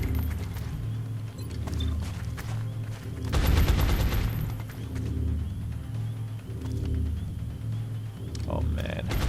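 Suppression gunfire in XCOM: War Within, a sustained loud burst of rapid shots rattling out near the middle over a low hum of game ambience, with quieter rhythmic thumps around it.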